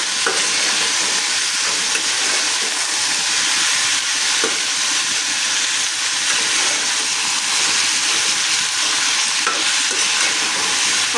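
Food seasoned with turmeric and salt fries in a pan with a loud, constant sizzle while a utensil stirs it with faint scraping, and no voices are heard.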